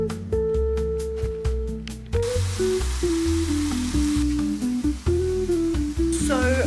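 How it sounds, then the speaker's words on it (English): Meat, Brussels sprouts, onion, spinach and kale sizzle in a hot pan, a steady crackling fry with occasional clinks and shifts as the contents are moved around. "I'm now frying up a little bit of the meat up with some Brussels sprouts, onion, spinach and kale"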